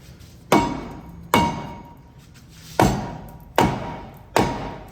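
Five sharp, loud hammer blows ring out at irregular intervals against a brake rotor on a 2006 Chevy Silverado truck during front wheel hub replacement, each metallic strike decaying briefly, with no talk.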